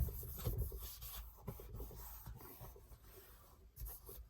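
Light rubbing on a paper lapbook flap, soft irregular scratchy strokes close by and faint, with no talk over them.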